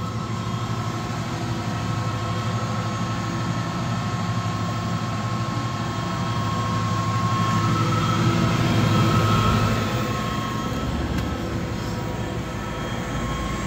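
An AMFEC 510 paddle blender runs with a steady, loud mechanical drone and hum from its motor, continuous throughout with a slight swell near the middle and no talking.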